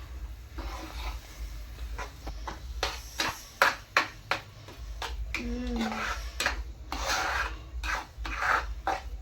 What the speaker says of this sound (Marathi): आता त्याला असं मिक्स करून घेऊ.